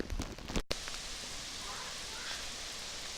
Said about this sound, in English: As you can see, it's raining harder.